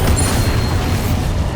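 A Bombarda explosion spell in the Hogwarts Legacy video game, a dense, loud, low boom and rumbling roar that fills the moment evenly, with a faint high whistle near the start and no clear speech.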